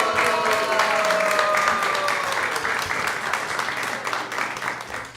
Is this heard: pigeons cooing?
no